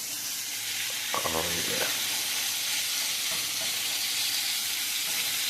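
A steak sizzles loudly and steadily in a hot pan with a continuous bright hiss. A person speaks briefly.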